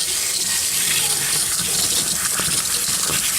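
Water gushes and sprays steadily from a flushing wand pushed inside an RV hot water heater, a loud continuous hiss heard up close with no pauses.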